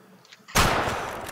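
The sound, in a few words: gunshot from a video game hunting rifle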